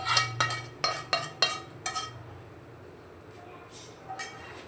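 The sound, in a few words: spoon stirring malida with ghee in a pot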